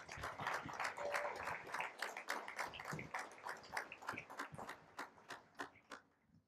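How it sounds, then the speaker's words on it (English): An outdoor high school graduation ceremony crowd applauds warmly, a dense patter of many hands that stays full for several seconds before thinning into scattered claps and tapering off. "a big round of applause for Mr. Lynch"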